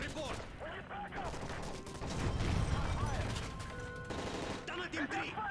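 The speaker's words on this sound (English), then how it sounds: "That's gunfire! Hijackers are taking the plane!" Gunfire in the video game Modern Warfare 3 during a plane hijacking, dense bursts of shots over rumbling engine noise with shouting voices throughout.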